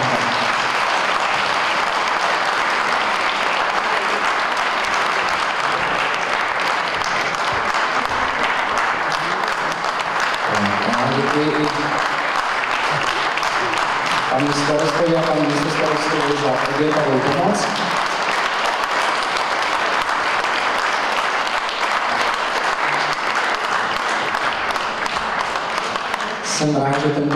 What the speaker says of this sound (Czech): Takže velký potlesk pro pana doktora Jaroslava Čánka.